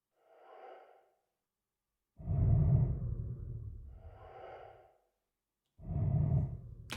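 Eerie cave-creature sound built from slowed breaths, a snore and a pitched-down death whistle: a faint airy breath, then three long, loud, deep rumbling swells with hissing tops, separated by short silences.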